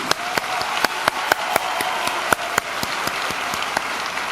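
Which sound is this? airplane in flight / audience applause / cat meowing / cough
audience applause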